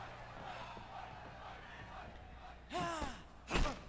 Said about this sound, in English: Crowd got into it for a moment there.